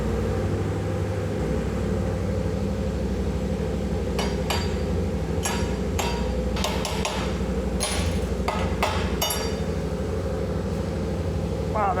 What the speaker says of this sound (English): Let's get out the chipping hammer.